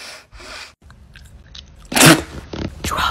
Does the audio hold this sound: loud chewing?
yes